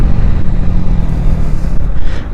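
A Yamaha MT15 motorcycle accelerates hard in a wheelie, its loud, close engine roaring with a rough, throbbing low drone for the whole brief burst. No one speaks.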